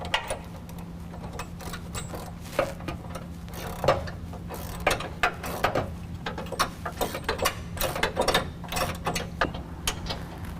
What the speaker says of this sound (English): we're going to use a 19mm socket and wrench to tighten up the 2 bolts holding our 2 brackets together